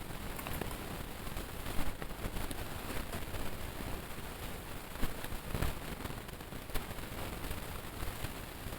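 Dried red chili, a bay leaf and cumin seeds fry in hot mustard oil in a pan. A quiet, steady crackling hiss holds throughout, with a few sharper pops now and then.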